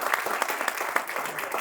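Church congregation applauding during a Sunday celebration service, a steady wash of dense clapping from many hands, moderately loud throughout.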